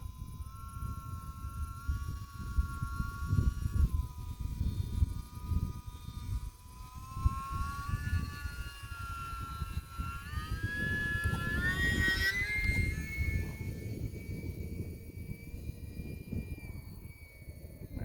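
A small E-flite UMX Timber X RC plane flies a slow, close pass at night in gusty wind, its electric motor whining at a rising and falling pitch that swells as it nears, over wind rumble.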